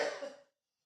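A single short, close cough that fades out quickly into silence.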